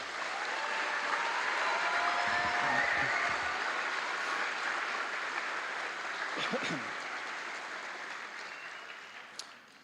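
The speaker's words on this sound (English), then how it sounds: "Can we get another round of applause for our graduates?" Audience applause for fifth-grade graduates at an evening school recognition ceremony, a sustained wash of clapping that swells and then slowly fades over about ten seconds, with a few murmured voices near the middle and a brief sharp knock near the end.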